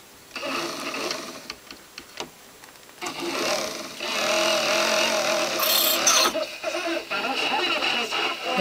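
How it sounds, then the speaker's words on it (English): A heating element wired up as a makeshift speaker plays audio as a harsh, buzzy, warbling hum that swells and stutters, close by and moderately loud. "The heating element's working as a speaker"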